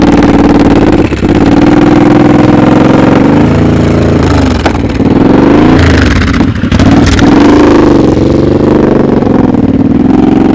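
Motorcycle engine revving repeatedly during slow-speed riding practice, loud and close, the throttle rising and falling in steady pulses with a continuous engine drone throughout.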